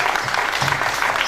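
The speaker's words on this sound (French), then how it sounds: "j'aimerais quand même qu'on l'applaudisse aussi." An audience applauds a collaborator named Daisy at a gathering about an orphanage donation, a short, loud burst of steady crowd clapping with no speech over it.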